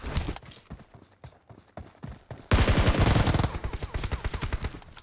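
Rapid bursts of automatic gunfire in PUBG Mobile, starting as sparse scattered shots, then turning into a loud, dense stream of fire in the second half.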